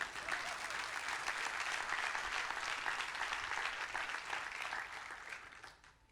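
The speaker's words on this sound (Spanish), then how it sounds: "Hasta que no me dé un aplauso, no sigo." A church congregation applauding, a dense sustained patter of many hands clapping at a moderate distance, tapering off toward the end.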